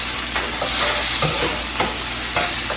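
Chopped onion and garlic sautéing in vegetable oil: a close, steady sizzle with a few sharp stirring scrapes and clicks of a utensil against the pan, no talking.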